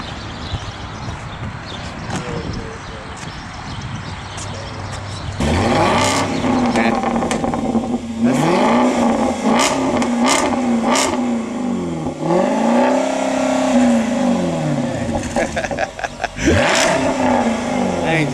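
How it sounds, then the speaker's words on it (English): Jaguar XK RS with a European exhaust accelerating hard from inside or beside the car, engine climbing and falling through several long revving pulls and gear changes, loud and close, with scattered voices underneath. "It's got that European exhaust"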